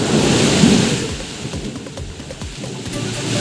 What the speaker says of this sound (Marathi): वाशिम जिल्ह्यात वादळी वारा आणि विजेच्या कडकडाटासह पाऊस